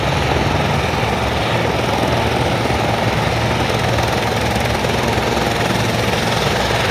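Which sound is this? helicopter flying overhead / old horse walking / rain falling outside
helicopter flying overhead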